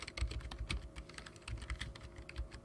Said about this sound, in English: Who's typing? Is that you typing?